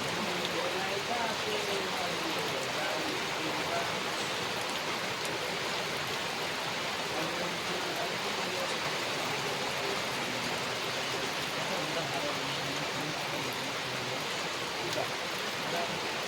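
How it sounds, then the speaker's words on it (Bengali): Steady rain pours down in a wide, even hiss throughout, with constant hushed spatter at a moderate level and no pauses. "বৃষ্টি"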